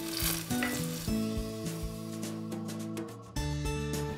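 Whole, uncut garlic cloves frying in hot oil in a wok give a soft, steady sizzle under prominent background music, fairly quiet throughout with no talking.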